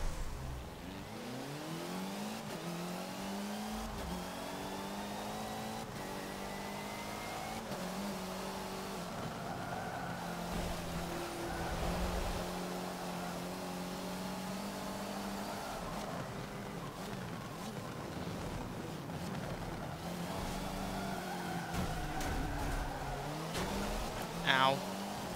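Rally cars racing in the Forza Motorsport 7 video game, a busy field of mid-sized rally cars on a narrow circuit, engines droning and revving steadily throughout while a voice talks over them.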